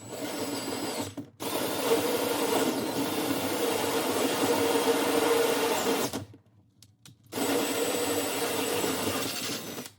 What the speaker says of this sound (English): This little drill's got some torque.